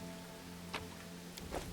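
Steady rain hisses in a video game, a dense even wash with a low hum beneath and a couple of brief soft taps.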